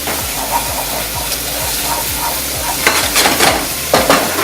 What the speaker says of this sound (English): I'm going to saute these off a little bit.